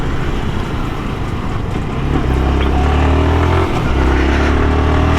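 A Yamaha R1 sport motorcycle rides through traffic with a loud, close engine drone that climbs and shifts in pitch as it revs, over constant wind and road rumble.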